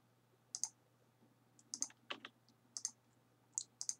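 Keys on a computer keyboard are pressed in a short series of crisp clicks, about eight distinct taps in small irregular bursts, close and clear with no voices over them.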